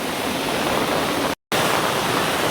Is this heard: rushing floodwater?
yes